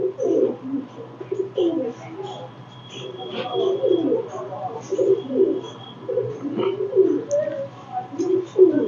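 Pigeons coo repeatedly up close in low, throaty bursts, a steady hum beneath and occasional light chirps.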